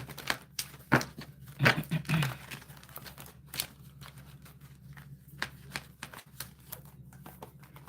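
Tarot cards being shuffled before a reading, heard as scattered close snaps and riffling crinkles, with a denser burst early on and then sparser, irregular flicks.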